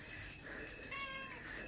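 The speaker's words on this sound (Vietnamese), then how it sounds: "Đây là con mèo nha mọi người ơi." A cat gives a short, faint meow or two in a quiet domestic setting.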